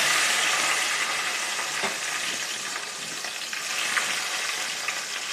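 Cumin, mustard seeds, garlic, dried chilies and onion fry in hot oil with a dense, even sizzle, with a few soft clicks of stirring now and then.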